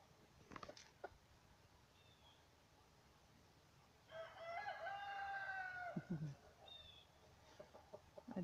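A rooster crows once at moderate distance, with a few soft clucks around it and quiet talking nearby.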